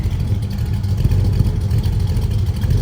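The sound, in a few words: Ford Mustang V8 engine running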